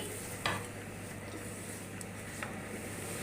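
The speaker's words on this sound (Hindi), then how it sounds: "अब मैं इन सारी चीज़ों को अच्छे से मिक्स कर लूंगी।" Vegetables with spring onion and cabbage being stirred in a pan for egg fried rice, a steady hiss of frying with a few soft scraping and clinking touches, close and moderate.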